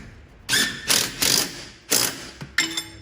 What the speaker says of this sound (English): we got to hold the guide pin, the slide pin, with a 17. With the electric torque wrench